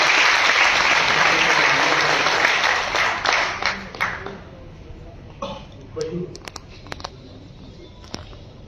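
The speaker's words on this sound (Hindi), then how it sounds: "मैं चाहूंगा जोरदार तालियां बजाकर।" Loud applause from a crowd that swells and then tapers off into scattered claps, a few coughs, and faint background voices.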